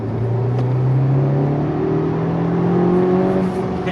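A 2015 Honda Civic Type R accelerating hard in third gear, its engine a steady, loud in-cabin drone climbing smoothly in pitch over a few seconds with no speech.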